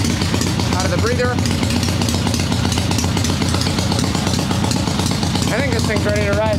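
A swap meet chopper motorcycle engine idles loudly and steadily with the idle set slightly high, a rough continuous rumble heard up close, while people talk briefly over it.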